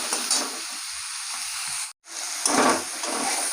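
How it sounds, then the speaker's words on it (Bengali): Pointed gourd and ridge gourd frying in a pan, a steady close sizzle with bursts of hissing and stirring scrapes, briefly cut off midway before resuming. "আমি পটল আর ঝিঙেগুলো একটু ভেজে নেবো।"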